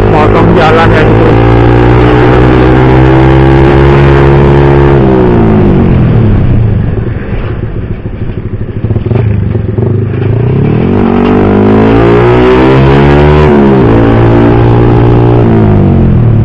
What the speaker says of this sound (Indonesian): kita langsung bahas aja untuk masalah suara knalpotnya ya teman-teman